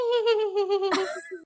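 A voice mimics a creaking closet door swinging open, a drawn-out wavering squeal that ends in a few short clipped creaks.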